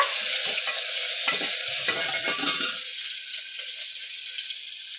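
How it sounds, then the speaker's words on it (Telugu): Chopped onion and garlic frying in oil in a pan: a spoon scrapes and stirs through the first three seconds, then a steady, close hiss of sizzling oil carries on alone. "కొద్దిసేపు నూనెలో బాగా వేపుకున్న తర్వాత"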